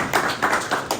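A small pub audience at a community politics talk claps in a brief burst of rhythmic, fairly close hand claps, with no voices over them.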